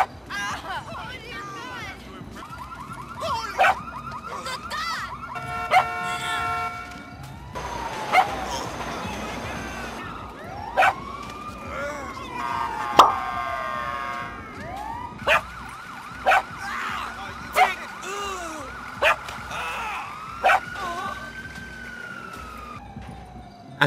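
A dog barks repeatedly in the GTA V Online video game during a Halloween 2022 event, with sharp barks scattered over wailing police sirens, steady game background noise and a voice talking.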